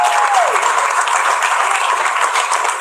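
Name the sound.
audience applause at stand-up comedy show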